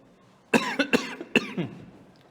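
Several sharp coughs in a quick cluster, loud and close, from a man teaching an audit class, with a final weaker cough trailing off into quiet room tone.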